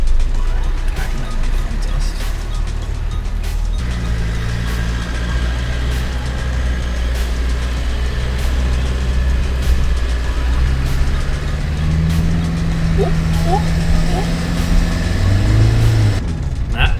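A car on all-terrain tyres grinds up a slippery, muddy hill, its engine droning low and steady close by, revs rising near the end, with a voice speaking over it.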